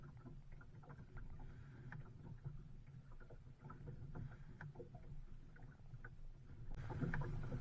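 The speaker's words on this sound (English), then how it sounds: "I need to row a little way out to make sure I'm far enough upwind" Oars working an Ilur cruising dinghy on a lake near a harbour, rhythmic splashes and knocks repeating at an even stroke pace, close by, with soft wind noise and a louder gust near the end.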